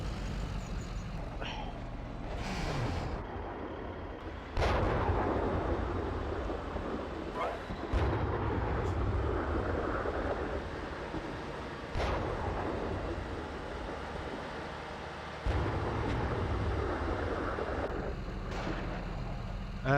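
Incoming fire in the Steel Beasts Pro tank simulator: repeated heavy booming impacts and rumbling blasts at irregular intervals over a constant low engine drone, with occasional sharp cracks.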